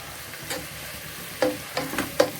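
Onion sautés in a pan for a crab roast, a soft steady sizzle with several sharp spatula scrapes and stirs heard close, spaced irregularly through the frying.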